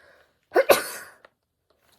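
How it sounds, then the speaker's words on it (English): A single sharp sneeze from a woman, close and fairly loud in a quiet room, a quick intake followed by an explosive burst that trails off, then near silence. "I'm sorry, I'm going to sneeze."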